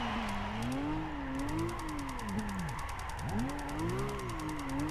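Blitz Nissan Skyline engine in Gran Turismo 5 during drift driving, its pitch rising and falling steadily with throttle changes over a rapid mechanical whir and ticking, loud and continuous with no talk.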